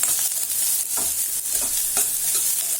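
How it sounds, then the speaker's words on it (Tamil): Onions sautéing in a pan for radish thokku, a loud steady sizzle with repeated scraping stirs of a spatula close by. "வெங்காயம் போட்டிருக்கோம் இப்போ நல்லா வதக்கிட்டு நல்லா சிவக்க வதக்கணும்"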